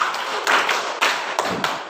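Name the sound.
group clapping five times in a rhythm game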